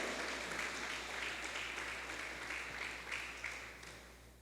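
A church congregation claps together in steady, dense applause that fills the room at moderate loudness and fades slightly toward the end, with a low hum beneath it.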